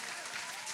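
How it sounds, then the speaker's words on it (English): Brief, faint patter of audience clapping in a small room during a talk show, a short steady burst of hands. "Wait for my clapping"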